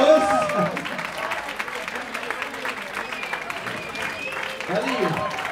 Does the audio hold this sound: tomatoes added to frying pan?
no